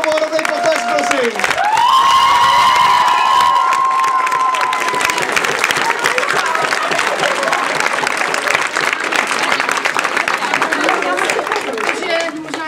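Loud applause and cheering from a school audience at a 2018 last-bell ceremony for a fourth-year class, with whoops and children's shouts rising over steady clapping throughout, and a voice talking near the start.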